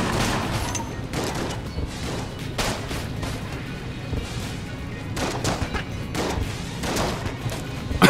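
Dense, rapid blunderbuss gunfire in Enter the Gungeon erupts in repeated shrapnel-like bursts, loud and continuous with overlapping blasts and crunchy impacts throughout.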